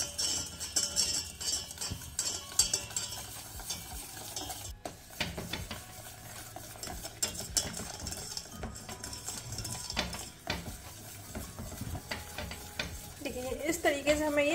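An eggless chocolate custard mixture is stirred continuously in a pan, with repeated soft scraping strokes, a gentle simmer and occasional utensil clinks. A faint voice is heard now and then.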